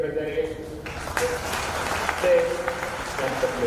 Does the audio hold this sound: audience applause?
yes